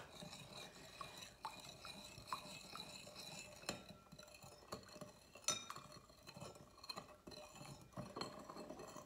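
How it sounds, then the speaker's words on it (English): A spoon stirs salt into vinegar in a glass, with quiet scraping swirls and light clinks against the glass rim, close and soft, with no one speaking. "And we'll stir this up."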